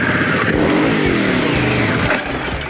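A Harley-Davidson Pan America motorcycle spinning donuts off-road, its engine revving hard and close in one sustained, rising roar with some gravelly texture underneath. No one speaks.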